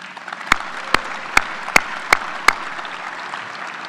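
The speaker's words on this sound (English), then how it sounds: "please join me in a round of applause for the Curtis family." Audience applause at a 2024 military change of command ceremony rings out as six sharp, evenly spaced claps over a steady hum of room noise.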